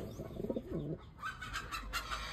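Pigeons coo softly and close by, a few low, throaty rolling calls over quiet background noise.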